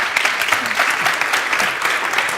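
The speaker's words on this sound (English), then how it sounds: "A big hand of applause." A conference audience applauds keynote panelists at a cleantech event in Stockholm, with dense, loud, continuous clapping from many hands that holds steady throughout.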